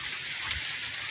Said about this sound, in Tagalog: Tuloy-tuloy yung ulan